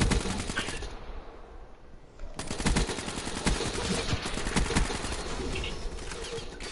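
Suppressed gunfire from a video game cracks in rapid bursts over a dense game soundscape, fairly loud and continuous, with no clear speech.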